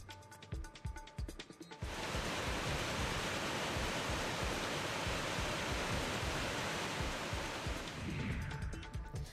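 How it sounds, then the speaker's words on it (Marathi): Umbrella Falls at Bhandardara dam, flowing after a water release, gives a dense, steady roar of cascading water that swells in after a quieter start and holds loud and unbroken for several seconds before easing. "छत्रीच्या आकारात कोसळणारा धबधबा पर्यटकांच्या आकर्षणाचं केंद्र ठरतोय."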